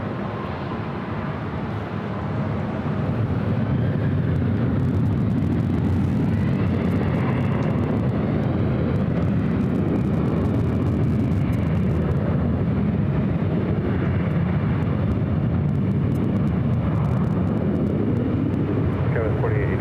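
Aircraft taking off from runway 24 left at LAX, a low, broad engine roar swelling after a couple of seconds and holding steady and loud, with faint radio voices underneath.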